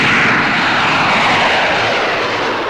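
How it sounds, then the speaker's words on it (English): A jet-propelled P-80 Shooting Star of the Army Air Forces roars loudly in old 1945-46 newsreel sound, a dense, steady engine rush with no break. "The world's fastest plane, the jet-propelled P-80 Shooting Star, is revealed by the Army Air Forces"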